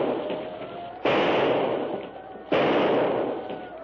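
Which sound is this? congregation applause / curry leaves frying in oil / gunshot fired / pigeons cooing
gunshot fired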